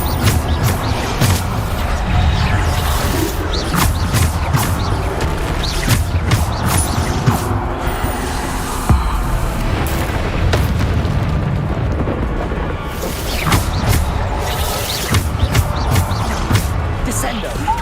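Bombarda spell blasts in Hogwarts Legacy go off again and again through dense, busy combat noise, with a person talking over the top.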